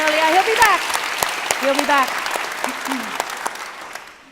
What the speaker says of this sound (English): round of applause for David McQuiggan